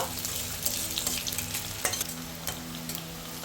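Steady sizzle of chopped onions and nigella seeds frying in oil in a pan, with intermittent stirring scrapes and small crackling pops, close by.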